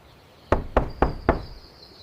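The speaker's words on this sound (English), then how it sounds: "Finally, she gathered her courage and knocked gently on the door." Four gentle, evenly spaced knocks on a small cottage door, close and distinct, each a short hollow thud that fades quickly, with no voices.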